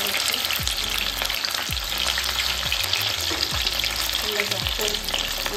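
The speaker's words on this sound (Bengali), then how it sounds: "এটা ভাজা হয়ে গেছে লাল লাল করে।" Chilli chicken pieces frying in hot oil in a pan, a loud, steady close sizzle with periodic low thuds and scrapes as the pieces are turned, no talking.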